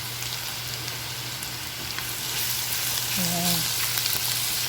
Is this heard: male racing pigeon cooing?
no